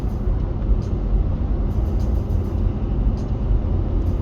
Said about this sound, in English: whoa, FedEx truck, whoa.